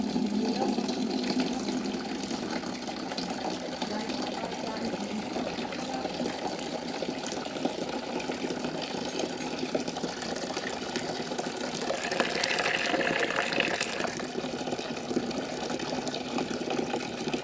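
Water poured into a container to soak termite mushrooms in salt water, a steady low rush of liquid running throughout, with a faint voice in the background.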